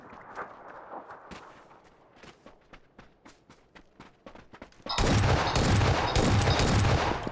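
Gunfire in the PUBG battle royale game: a run of separate sharp shots over the first few seconds, then a dense, loud burst of rapid fire that carries on to the end.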